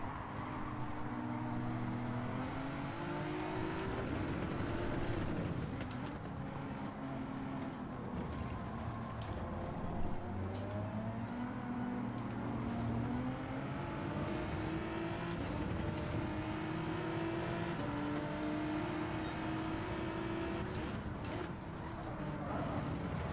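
A Porsche race car engine in Gran Turismo 7 daily racing drones and rises through the gears in a steady, continuous whine, with other cars audible in the mix and faint commentary underneath.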